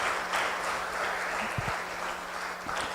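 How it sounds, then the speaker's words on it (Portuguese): A church congregation applauds, a brief wash of clapping from many people heard at a moderate distance. "Dê uma salva de palmas para o Senhor."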